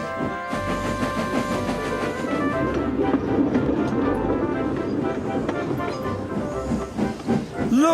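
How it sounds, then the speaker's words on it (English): Toy steam engines chuffing gently into a station with a hissing steam wash, faint rhythmic puffs and clanks under music-like tones, moderately loud and close. "They chuffed gently into the station."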